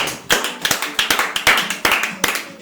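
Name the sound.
audience applause welcoming the guest artist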